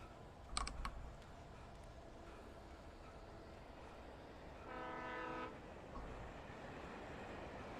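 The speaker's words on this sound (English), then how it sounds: "There's a train!" Train in the game Alan Wake, a faint distant rumble with a brief horn-like tonal burst midway and a few sharp clicks early on, quiet overall and without talking.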